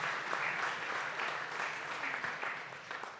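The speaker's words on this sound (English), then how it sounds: "So applause for Emil and his teams." Audience at a startup pitching competition gives steady applause for an accelerator team, a continuous wash of clapping at moderate, even distance that holds through the few seconds.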